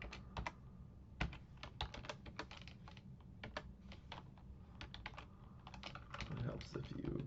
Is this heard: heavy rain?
no